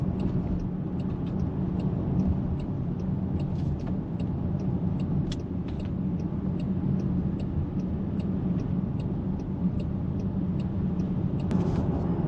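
A Jaguar F-Pace with a 2-litre diesel engine drives along, its steady low engine rumble and road noise continuous and even throughout, with faint higher ticks now and then.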